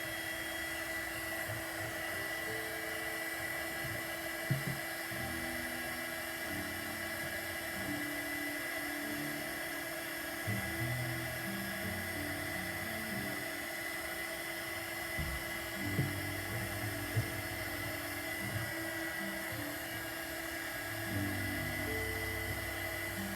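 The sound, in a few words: heat gun melting wax in a wax warmer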